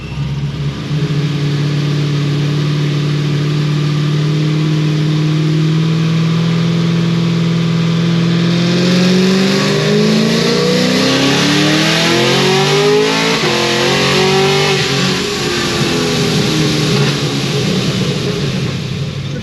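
A Procharger-supercharged car engine idles with a steady drone, then revs up through rising shifts of an automatic transmission, loud and close with a climbing, whining pitch.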